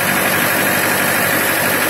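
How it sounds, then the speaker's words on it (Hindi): A 2008 Mahindra 575 tractor engine idles close by, giving a loud, steady, even diesel chatter with a constant throb and no talk over it. "इंजन बढ़िया ट्रैक्टर का"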